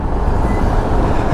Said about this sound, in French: Ah ouais, putain, il y a de la circulation